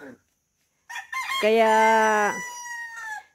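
A native rooster crows one long, clear cock-a-doodle-doo close by, with a short cluck just before it, in a rural yard where an elderly grandfather keeps chickens.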